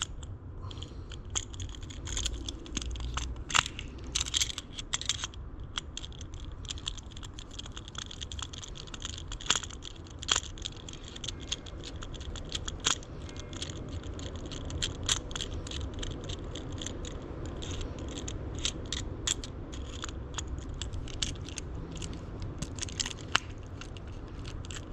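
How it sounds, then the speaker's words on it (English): Screws being removed from a 1972 Honda CB500 Four motorcycle, a close run of irregular small clicks, scrapes and crackling tool contacts lasting throughout, with no talk. "let me get these screws out"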